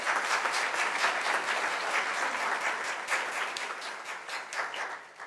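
A large audience at an awards and graduation ceremony claps steadily in sustained, dense applause that holds level and begins to fade at the end.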